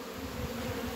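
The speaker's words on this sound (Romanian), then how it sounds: "Acele albine sunt pui care ies la zbor după ora 15," Honeybees, young workers leaving the hive on their first afternoon flights, make a steady, dense buzzing drone close by, continuous and unbroken with no voices.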